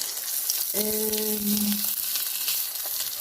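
White fish frying in a pan as part of a ratatouille dish, a steady close sizzle and crackle running throughout, with a brief tonal scrape or squeal partway through.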